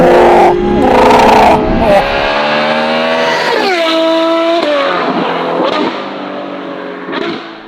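A naturally aspirated V12 in a Novitec Ferrari 812 N-Largo S runs near 3,000 RPM, its induction note rising and falling through loud, close revs, with a few shifts in pitch and a voice heard briefly.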